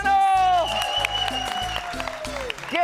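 Studio audience applause on a Spanish-language morning TV show, loud clapping swelling at the start under music and a host's voice, then thinning as talk continues.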